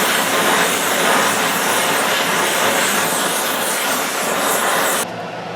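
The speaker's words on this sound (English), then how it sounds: "Got some noise going on because of my ventilation fan." A workshop ventilation fan running during cast iron welding prep, a loud, steady broadband roar that holds evenly and then drops slightly in level near the end.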